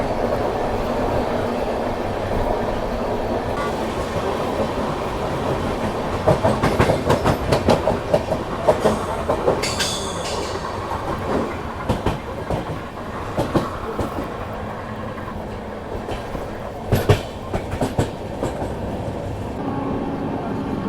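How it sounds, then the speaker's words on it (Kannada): A passing train rushes alongside close by while overtaking the Amritsar–Mumbai CSMT Express, with a continuous loud rumble, rhythmic clickety-clack of wheels over rail joints and occasional brief squeals, no voices. "ಇಲ್ಲಿ ನೋಡ್ರಲ್ಲ ಅಮೃತ್ಸರ್ ಮುಂಬೈ CSMT ಎಕ್ಸ್ಪ್ರೆಸ್ನ ನಾವು ಓಟೆಕ್ ಹೊಡೆದಿವಿ"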